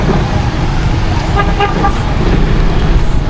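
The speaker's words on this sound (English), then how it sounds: "the traffic over here is crazy, right?" Busy street traffic in Hanoi, Vietnam, with a steady roar of cars and motorbikes and a few short horn toots in the middle, heard close and continuous.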